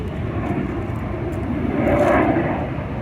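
Two F-18 Hornet jets pass overhead at an aviation museum, a broad steady roar that swells slightly toward the end, heard alone at a moderate distance.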